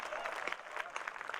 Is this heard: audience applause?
yes